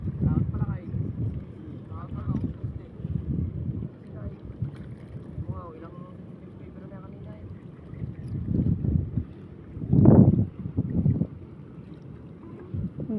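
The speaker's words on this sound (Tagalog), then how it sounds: "Parang pista yung laot, puro bangka." Motorized fishing boats crowd the open sea, their engines forming a continuous low drone with wind, swelling loudest as one passes close, then settling back into a steady rumble.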